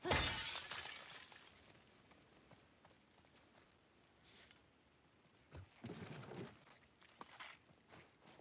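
A glass door shatters in The Last of Us Part II on PS4. A loud, bright crash opens and fades over about two seconds, then scattered quieter clatters and footsteps follow.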